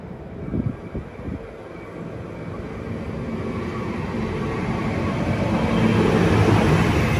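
A train hauled by locomotives NR71 and NR84 passes at Bargo, its low rumble building steadily into a loud, continuous roar that fills the whole stretch.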